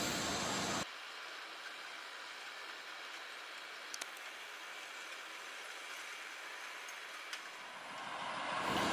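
A sugar cane railway locomotive at the PG Kedawung mill pushes through tall grass on an overgrown track at the start of the milling season, giving a steady rolling rumble with occasional clanks and growing louder toward the end.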